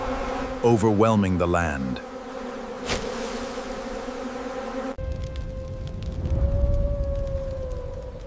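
A swarm of flies buzzing, a dense continuous insect drone heard close up, with a rising and falling tonal wail over it in the first seconds and a low sustained hum later.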